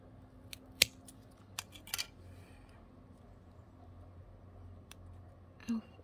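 Scissors snipping graptopetalum succulent stems, a few sharp, quiet clicks spaced irregularly over a soft, hushed background.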